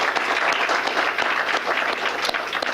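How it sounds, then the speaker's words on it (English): A round of applause from the audience at a mayor's employee recognition awards ceremony, with many hands clapping steadily and a few sharper individual claps standing out. "Let's still have a round of applause for them."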